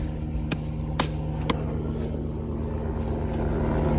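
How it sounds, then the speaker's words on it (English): A helicopter passes overhead on a Sicilian island with a continuous low rotor rumble and steady drone, while three sharp clicks or taps stand out near the start. "another helicopter."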